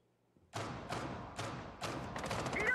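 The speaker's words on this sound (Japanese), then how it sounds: "AK の銃声してるじゃないですか。" AK rifle gunfire in Rainbow Six Siege on PC: a series of about five heavy, booming shots at a steady pace, slightly muffled as if from another room, with no talking over them.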